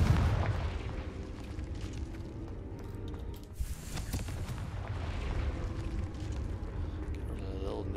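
The Confringo blasting spell in Hogwarts Legacy goes off as a rumbling explosion with crackling debris, followed by a dense, noisy wash of game effects, with a dip and then another burst partway through.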